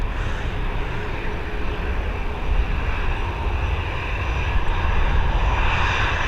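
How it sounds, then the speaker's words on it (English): An Airbus A320 takes off from Dublin Airport bound for London Heathrow, its jet engines a broad steady roar that builds slightly louder over several seconds. "Here we go, London Heathrow bound, this Airbus A320"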